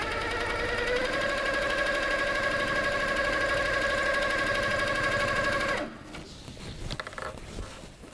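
A Handi Quilter Sweet Sixteen quilting machine stitches in a fast, steady whirring hum for several seconds, then stops abruptly, leaving only faint handling noises close by.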